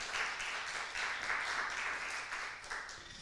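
A church congregation at a Sunday service claps together, a faint, even patter of many hands continuing steadily for a few seconds with slight pulses.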